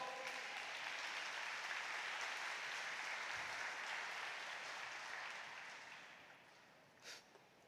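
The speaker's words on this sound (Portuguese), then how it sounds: "aplauda o nome do Senhor." A church congregation applauding during a sermon: a broad, even patter of many hands that holds steady, then thins and fades out, with one brief louder clap near the end. The whole passage sits at a fairly low level.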